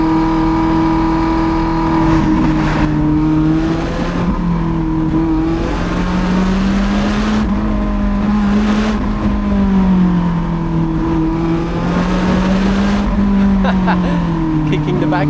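A Lotus Elise driven hard through the tight mountain corners of the Sustenpass, its engine droning steadily with pitch rising and falling as the car brakes, slides and accelerates, close and loud throughout with faint speech beneath.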